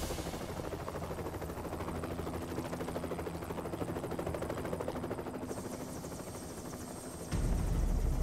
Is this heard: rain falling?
no